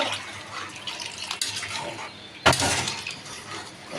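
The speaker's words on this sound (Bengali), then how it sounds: "তাহলে আমরা জল দিয়ে দেবো, বেশি না অল্প, হালকা হালকা রাখবো" Water splashes into liver curry (koliza bhuna) frying in a pan. A sudden loud hiss and sizzle bursts out midway, then settles into steady bubbling and frying.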